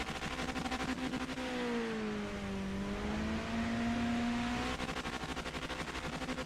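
A race car engine in the Project Motor Racing video game revs steadily up and down for several seconds, its tone harsh and distorted with a crackly buzzing edge, loud and continuous with no voices.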